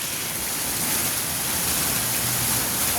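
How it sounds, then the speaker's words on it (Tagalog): Heavy rain pours steadily in Hong Kong, a loud, dense, continuous hiss of water falling on surfaces close by, with no speech over it. "Oh, lakas ng ulan."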